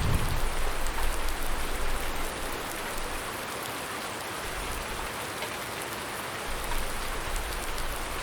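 Steady rain falls in the farming game Farming Simulator 19, a soft continuous hiss of drops on the ground, moderately faint and even, with no voices.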